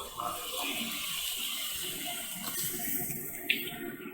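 Prepared Kashmiri kahwa being poured into hot milk while making pink tea, a soft steady liquid pour running continuously at moderate level with a small clink near the end.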